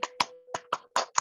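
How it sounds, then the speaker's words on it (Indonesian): A small group claps for classmates who acted out roles in a sociodrama group counseling session, about six separate sharp claps, close and uneven, with no talk. "Ayo tepuk tangan buat teman-teman yang lain."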